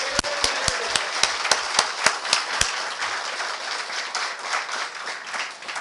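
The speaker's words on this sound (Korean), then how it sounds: "다시 한번 보십시오. 영광 박수." A church congregation at a year-end service claps again in a strong rhythmic unison of about ten crisp beats, then dissolves into sustained, looser applause that carries on to the end.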